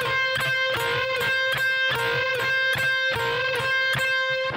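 Distorted electric guitar from a solo plays a fast repeating phrase of picked notes with unison bends, rhythmic and loud, alone.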